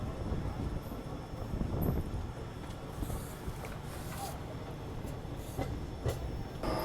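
The Kosi Superfast Express on the Ranchi to Patna route is heard from inside a carriage as a steady loud rumble and rattle, with faint rhythmic wheel clicks and some faint scattered voices.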